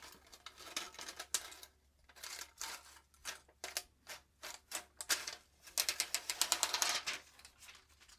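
Protective film is peeled off an MSI RTX 5080 Inspire 3X OC graphics card in a close series of crackling, ripping pulls, growing denser and louder toward the end.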